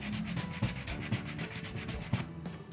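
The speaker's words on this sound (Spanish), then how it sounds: "Aquí podría a lo mejor volverla a lijar." Hand sanding of a wooden surface treated with knot filler, a close, rhythmic back-and-forth scratchy rubbing in steady strokes of roughly four per second, stopping near the end, with no voices.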